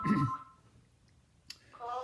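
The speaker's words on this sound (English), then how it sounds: "And here comes a phone call that I'm not going to take." A telephone rings with an incoming call, giving two short bursts of bright, buzzy electronic tone at the start and end with a quiet gap between.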